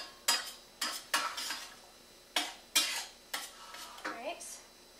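Garlic cloves, a whole pepper and a whole onion sautéing in a quarter cup of butter are stirred in a pot, giving about ten sharp scraping strokes in an uneven rhythm, close and moderately loud, with no talking.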